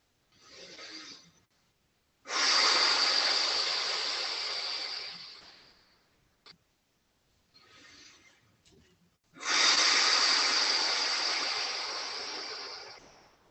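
Two long, controlled exhales during a breathing exercise with the belly drawn in, each a steady airy breath lasting several seconds and fading gradually, close and clear, with short quiet inhales between them.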